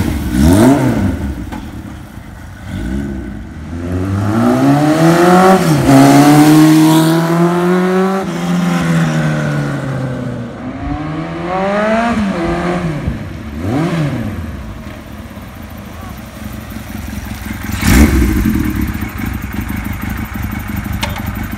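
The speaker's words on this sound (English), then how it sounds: "Here he comes. This is a great running bike." A 1975 Kawasaki Z1 900 motorcycle in a Rickman frame rides past, its engine note rising and falling through several gear changes and revs as it approaches close and loud, then fades into the distance.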